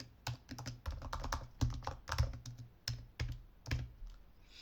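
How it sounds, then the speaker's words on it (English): Rapid bursts of computer keyboard typing while entering code in a Python Flask database tutorial, close and crisp, clustered keystrokes with short pauses between runs, no talking. "So let's go ahead and type this in right here."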